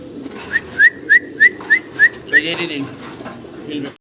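Pigeons at a large pigeon farm in Bangladesh give a rhythmic run of six or seven short, even calls, then a brief burst of noise, over a low murmur of background voices.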